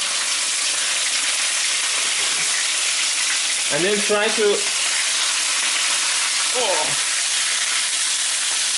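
Minced meat and two chilies fry in hot oil, spitting where the meat's water meets the oil: a steady, loud, close broadband sizzle that runs throughout, with a voice speaking briefly over it twice.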